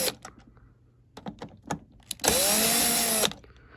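A power drill backs screws out of a Gemmy life-size Graves the Butler animatronic during a repair, first as several short clicks and taps, then as one steady whirring spin of about a second, close up with no talking.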